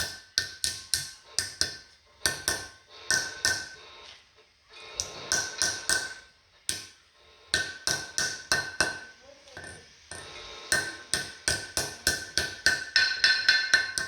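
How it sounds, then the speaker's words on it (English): A small hammer taps a seal into the disc brake hub of a 1969 Mustang during a disc brake conversion, with quick bursts of sharp metallic strikes that ring brightly, pausing briefly between runs. "Take a smaller hammer. This isn't as big as the other one I had. It's a smaller one. And you just kind of tap around on it"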